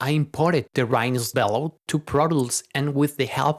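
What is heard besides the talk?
No everyday noise stands out behind the speech.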